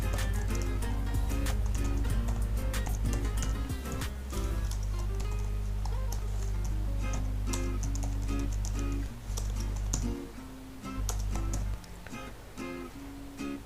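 Rapid typing on a computer keyboard while entering an email address in a registration form, dense clicky keystrokes close up over a steady low hum, with a few short pauses.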